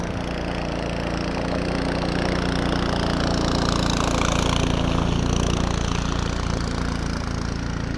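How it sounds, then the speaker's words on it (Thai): A long-tail boat engine on the river at Vang Vieng, Laos, runs loud and close in a continuous rough, rattling drone that swells slightly midway, with no talking. "ไปแล้วนะครับ เรือหางยาว"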